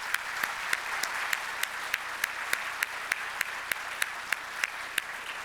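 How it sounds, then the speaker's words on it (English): A small audience applauds a panel at the end of a public data discussion, a steady patter of claps with a few sharp, louder claps standing out at regular intervals. "please join me in a round of applause for our panel"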